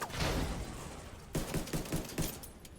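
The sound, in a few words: pistol gunfire in video game Division 2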